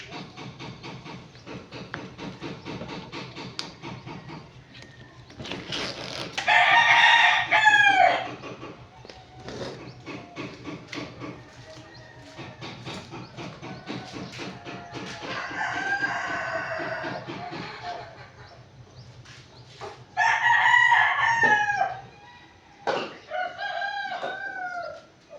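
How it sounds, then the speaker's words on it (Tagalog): Several backyard pet chickens and roosters kept by neighbours crow loudly in repeated long calls, spaced a few seconds apart and overlapping one another, with steady clucking and a low background hum between crows. "sobrang ingay po dito. Kasi maraming hayop na alagang manok ng mga kapitbahay ko"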